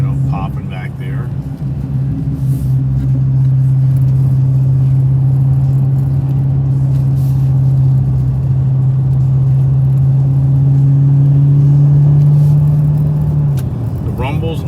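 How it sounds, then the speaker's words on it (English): A deep, steady engine rumble from a Dodge Challenger SRT Hellcat Redeye or Ford Mustang GT500 drones close by for most of the clip, with a low throbbing tone that holds and then drops off near the end. "The rumble's nice in all these Ice Age cars."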